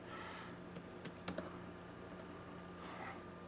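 A computer keyboard clatters as a search is typed into YouTube, quiet, quick keystrokes clustered in the middle of a low steady room hum.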